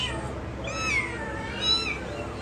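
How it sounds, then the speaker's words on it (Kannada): A mother cat that has carried her kitten indoors at home meows twice, two drawn-out rising and falling cries close by against a steady background hiss. "ಬೆಕ್ಕು ಅದ್ರ ಮರಿನ ನಾವು ಮೇಲ್ಗಡೆ ಕರ್ಕೊಂಡು ಬಂದಾಗೆ ಅದು ಕೆಳಗಡೆ ಗ್ರೌಂಡ್ ಫ್ಲೋರಿಗೆ ಕಚ್ಕೊಂಡು ಹೋಗ್ಬಿಟ್ಟು"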